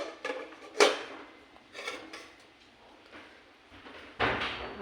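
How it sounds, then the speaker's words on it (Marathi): A lid is set down on a cooking pot of homemade khichdi in a home kitchen, giving a sharp metallic clack followed by a second louder knock near the end, with faint handling clatter in between. "त्याच्यावरती आपण झाकण ठेवूया।"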